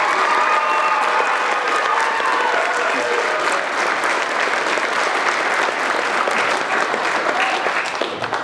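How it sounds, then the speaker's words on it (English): Audience at a middle school drama performance applauds steadily and loudly throughout, a dense continuous wash of clapping with faint cheering mixed in. "Give them a big round of applause."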